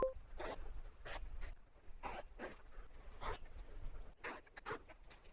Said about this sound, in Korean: 부직포를 케이블 타이로 고정을 해주도록 할게요